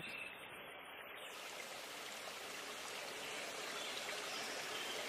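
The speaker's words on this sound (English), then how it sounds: "Monica hears water. Do you hear water?" Water flows in a stream through the woods, a soft, continuous trickling wash that stays faint and steady with no voices over it.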